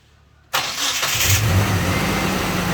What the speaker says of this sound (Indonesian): Mesinnya udah nyala. Mesinnya masih halus